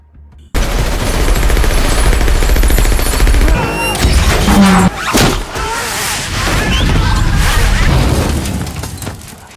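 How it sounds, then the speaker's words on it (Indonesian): Dense gunfire in an action film scene as several people shoot at once near an elevator, loud sustained bursts of shots layered with booms and crashes filling the whole stretch. "mereka semua mencoba menembak Clay secara bersamaan"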